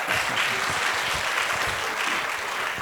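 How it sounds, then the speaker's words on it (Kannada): An audience claps together at a literary talk, a dense, continuous burst of applause from a crowd in a hall, steady and loud throughout. "ದಯವಿಟ್ಟು ನನ್ನ ತಂದೆಗೆ ಒಂದು ದೊಡ್ಡ ಚಪ್ಪಾಳೆ ಎಲ್ಲರಿಂದ."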